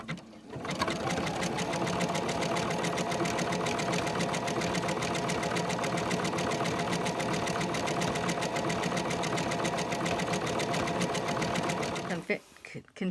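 A sewing machine stitching a seam on a pillowcase: a steady, loud, fast rhythmic whirring and clatter held evenly for about twelve seconds before it stops, with a voice in the background.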